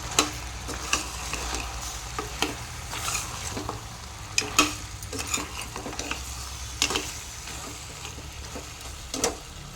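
Mutton curry sizzles in a pan as tomatoes go in, with a steady frying hiss and irregular clinks and scrapes of a spoon stirring against the pot throughout.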